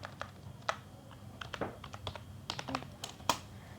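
Typing on a computer keyboard while entering list items in HTML code, with scattered close key clicks in irregular bursts and a louder keystroke now and then over a quiet room.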